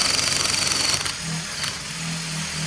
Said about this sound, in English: As the brush takes bits off, it breaks apart and makes it look even worse.